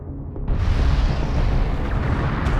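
A vehicle is destroyed in the real-time strategy game Homeworld: Deserts of Kharak, setting off a loud, deep explosion that rumbles on as a sustained, dense roar for the rest of the moment.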